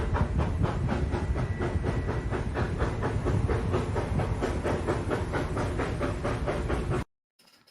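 A train running on rails gives a loud, close, continuous rumble with a rapid rhythmic clatter, then cuts off abruptly near the end.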